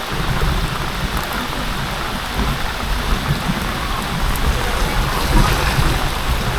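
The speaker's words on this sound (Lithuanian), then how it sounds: "Griaudė." Heavy rain pours steadily in hot weather in Cambodia, a loud, dense hiss of drops beating on surfaces, with low rumbling thunder rolling beneath it throughout.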